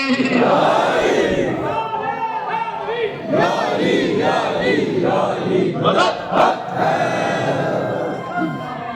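A majlis congregation at Bibi Pak Daman in Lahore shouts a loud collective slogan, the massed voices surging in repeated bursts that fill the space with a dense, echoing roar.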